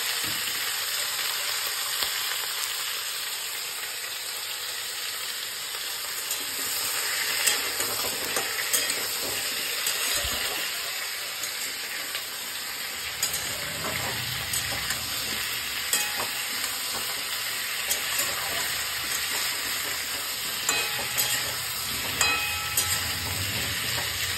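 Vegetables hitting hot oil tempered with whole spices and a cut green chili, a loud continuous sizzle with occasional stirring scrapes, close up and without talk.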